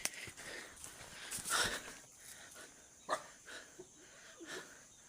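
A few sharp dog barks ring out at intervals, moderately distant, with quiet ambient background between them.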